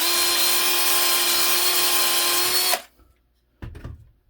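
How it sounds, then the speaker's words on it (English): A power drill reams out holes in a 3D-printed part with a steady, close, high whine for nearly three seconds, then cuts off, followed by a short dull handling thump. "to ream out holes to the right diameter."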